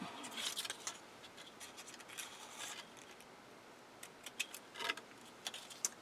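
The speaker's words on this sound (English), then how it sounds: "Now what I'm going to do is I'm going to cut into this strip a little bit." Scissors snip into a paper strip for a handmade encouragement card, giving faint, close, brief crisp cuts in small irregular bursts over a quiet background.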